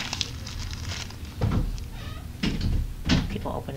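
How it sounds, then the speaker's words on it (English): A door opens indoors with a few soft knocks, clicks and bumps in a quiet room, the thuds coming in short separate bursts. "People opening the door."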